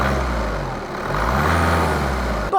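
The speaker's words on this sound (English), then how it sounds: "Start this diesel up and take a listen." Volkswagen turbo diesel car engine running at a steady, gruff idle with a low rumbling drone, close and fairly loud, then cut short by a brief clunk at the end.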